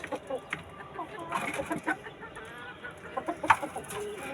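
Several chickens cluck close by in short, irregular bursts, with soft rustling and scattered clucks against a quiet background.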